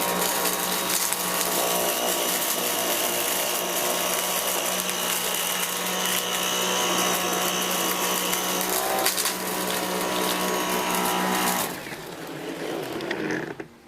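A Dyson V8 cordless vacuum runs at normal speed while cleaning along edges, giving a loud, steady, high-pitched whine with brief pitch shifts before the motor drops lower near the end.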